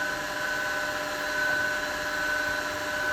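A wood lathe runs steadily while a bowl is being turned, giving a constant motor hum with a bright whine that holds evenly throughout, close and with no talking.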